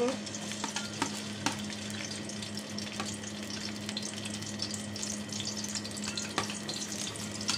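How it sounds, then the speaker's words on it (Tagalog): Garlic sautés in a pan, giving a steady, fairly quiet sizzle with occasional sharp clicks of stirring against the cookware and a low steady hum underneath. "Igisa lang natin tong bawang."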